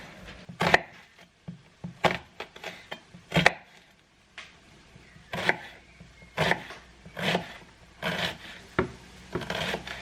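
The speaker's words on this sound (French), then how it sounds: "Et ensuite je vais émincer l'oignon" A knife chops through an onion on a board, giving irregular sharp knocks and crisp cutting strokes in short bursts, close and fairly quiet, with no talking.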